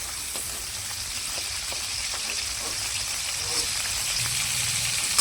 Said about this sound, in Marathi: तेल टाकते वाटाणा तळायला, सोयाबीन तळायसाठी.